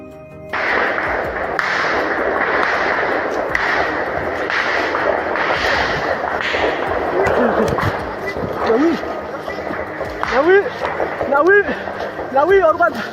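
Repeated sharp bursts of gunfire ring out during an exchange in a Papuan forest, then give way to shouting voices and chirping sounds near the end.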